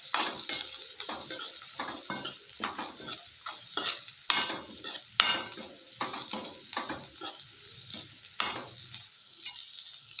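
Green chilli chutney mixture with coriander stirred in a pan, a steady scraping of the spoon against metal over a soft sizzle, close and alone.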